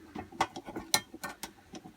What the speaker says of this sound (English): I'll just get them little bolts out